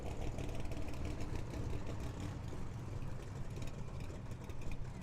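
A supercharged Chevrolet Camaro RS drag car idles at Firebird Motorsports Park with a dense, steady rumble that holds without revving, loud and continuous.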